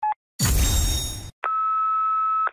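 Fortnite phone call reaching voicemail: a short electronic tone, a burst of static-like noise, then one long, steady, loud beep.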